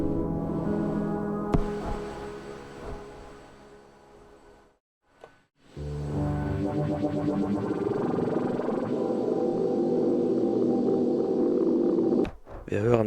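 A Forge-TME VHIKK X effects pedal runs a heavily processed, shifting algorithm texture that goes beyond simple delay or reverb, dense and sustained with a brief dropout midway before swelling back up loudly.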